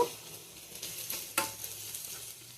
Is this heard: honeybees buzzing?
no